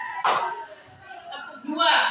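A single sharp hand clap in a primary school classroom, one crisp burst near the start, surrounded by a teacher's speech.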